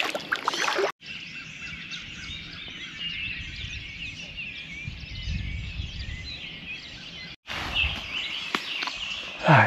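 A small boat moves through water in hardwood timber, with a continuous close wash of water and hull noise. Faint bird calls sit in the background, and the sound is briefly cut twice.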